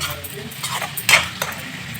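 Masala frying in oil as it is stirred, with a soft steady sizzle and scraping spoon strokes against the pan, one sharper clatter near the middle, heard close with no talk.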